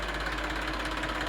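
An Eicher 380 tractor, a 42 hp machine, idles steadily close by, its engine running with an even, continuous rumble and a faint rhythmic knock throughout, with no voices over it.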